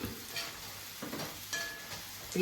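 Gobi manchurian vegetables sauté in a pan with a soft, close sizzle and a few scraping stirs, quiet and brief.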